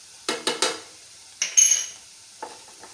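A spoon stirs turmeric, red chilli and coriander powder into fried onions in a pan while making okra (bhindi) fry. Quick clattering scrapes come in a cluster of three, then a couple more, over a faint sizzle.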